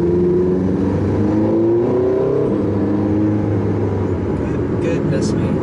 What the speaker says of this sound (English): Put it into hybrid mode, and the engine roars back into life.